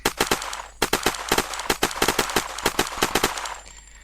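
A gun loaded with civilian bullets fires in the video game Unturned, sounding as rapid bursts of sharp, loud shots in quick succession, with a short break near the start before the firing trails off at the end.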